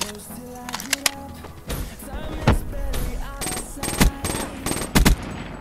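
A burst-fire gun in the game Black Ops 3, with sharp short bursts of shots spread through a busy game mix, clustered in the second half and loud against the background.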